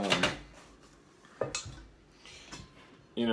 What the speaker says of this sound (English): this is the fry pan, and it's really, really deep